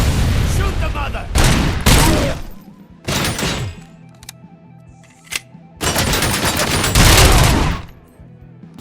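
Bursts of automatic gunfire in Robocop: Rogue City, several loud, dense volleys separated by short gaps with a few single shots, close and dominant, with shouting voices mixed in.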